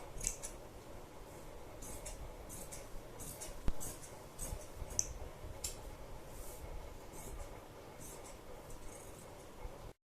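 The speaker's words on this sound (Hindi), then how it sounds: "और जो हमारा ये फालतू का कपड़ा है इसको हम काट देते हैं साइडों से भी।" Scissors snip away excess lining fabric at the sides of a suit or kurti, a run of soft, close, rhythmic cuts over a low background hiss.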